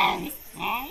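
A dog growls and snarls in two rough bursts separated by a short dip, loud and close, with no talk over it.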